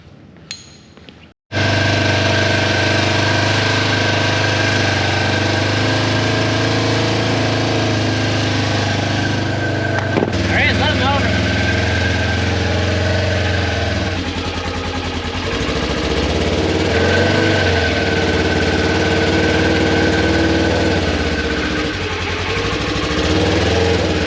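A Hemi-powered Polaris UTV engine starts up and runs at a steady, loud idle with a rough mid-range rumble, the tone shifting slightly midway as it revs a little and settles.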